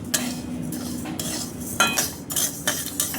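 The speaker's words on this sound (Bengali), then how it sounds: "প্রথমে মুগ ডালটি শুকনো কড়াই ভেজে নিচ্ছি।" Mung dal dry roasting in an empty kadai, with a spoon scraping and stirring the lentils in short rattling strokes, close and clear, with no talking.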